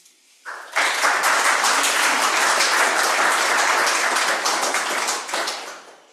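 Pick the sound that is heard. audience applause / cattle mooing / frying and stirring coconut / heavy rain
audience applause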